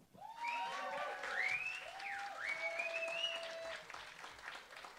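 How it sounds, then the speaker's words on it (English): A live-music crowd at The Bedford welcomes a performer to the stage with faint, distant applause. Clear rising and falling whistle-like tones ring over the clapping throughout. "put a little extra love and a little bit of extra energy into your applause"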